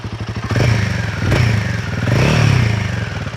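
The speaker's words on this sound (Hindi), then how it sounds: "एक बार फिर से मैं गाड़ी चालू करके आपको साउंड सुना देता हूँ।" A Royal Enfield Himalayan 450 motorcycle with a short-stroke engine starts nearby: a chugging crank catches into a loud, throbbing idle, followed by a couple of blips of revving that swell and settle back, with no talking.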